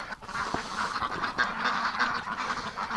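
Ducks quacking around a pan of freshly changed water in a winter outdoor pen, a steady overlapping flock chatter with a few sharper calls, close and moderately loud.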